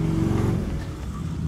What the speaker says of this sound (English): trucks and cars just driving on by all rude and everything